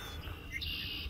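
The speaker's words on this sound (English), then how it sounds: "So that is a red-winged blackbird up there." A red-winged blackbird calls from a perch overhead in early spring beside Sebago Lake, Maine: a few short, fairly faint chirps and a brief trilled note over low outdoor rumble, with no talking.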